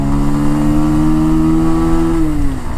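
A Bajaj Pulsar 150 BS6 motorcycle with a 149.5 cc engine revs hard and steadily toward its 10,000 RPM redline, a loud continuous engine note holding high before easing off at the end, with no talk over it.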